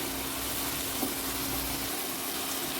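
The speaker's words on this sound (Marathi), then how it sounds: "कांदा आता शिजवून घेऊया व्यवस्थित" Onion frying in a pan produces a continuous, even hiss throughout, with a soft sizzle at a constant close level and no talking.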